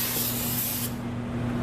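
A can of brake parts cleaner sprays onto the brakes of a 1963 Buick Riviera in one steady, close hissing jet that cuts off sharply partway through, leaving a softer background hum.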